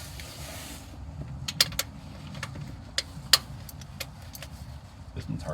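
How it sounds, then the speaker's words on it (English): Bolts being loosened to remove the carburetor on a 1964 Buick LeSabre, a series of sharp metallic ticks and clinks from a wrench over a low background hum, close and moderately loud. "pop this carb off. These bolts are nice and loose."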